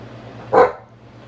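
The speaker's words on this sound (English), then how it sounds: "Dog's barking." A single short dog bark sounds once, fairly near and clear over a low steady hum, with no voices.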